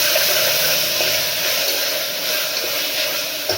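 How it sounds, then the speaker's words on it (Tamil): Chopped tomatoes sauté in a pan for vegetable kurma, giving a steady, loud, close sizzle and hiss that continues without a break. "கட் பண்ணி வச்சுருக்கிற தக்காளியை சேர்த்துட்டு நம்ம கலந்து விடலாம்."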